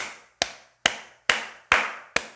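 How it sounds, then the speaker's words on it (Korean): A Sunday church congregation claps together in slow unison: five loud, sharp claps at an even pace, each ringing briefly in a reverberant hall with no talk over them. "오늘도 함께 예배드리신 주님께 큰 영광의 박수 올려드리겠습니다."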